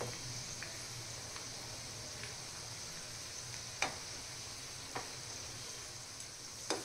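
Onion bhaji deep-frying in a pan of oil, a soft, even bubbling sizzle with occasional small pops and crackles, fairly quiet and with no talking.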